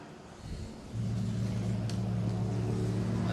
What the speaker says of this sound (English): Just had the 5-litre Maserati V8 powered Cooper Monaco go past.